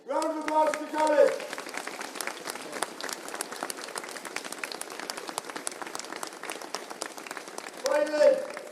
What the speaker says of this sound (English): Round of applause to Kilconly.